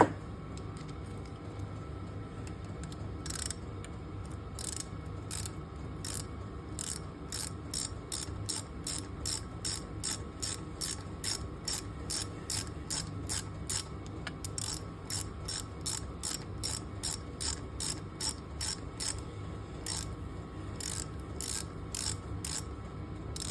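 A ratchet clicks rapidly in short repeated bursts while screws are tightened on a Can-Am 1000 engine. The clicking is close, crisp and rhythmic, with no talking.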